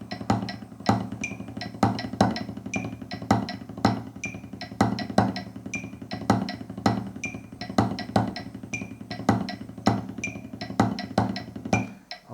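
Drum rebound stroke exercise played against a metronome: regular sharp stick strokes in a steady pulse with a clicking metronome, close and clear, with no talking.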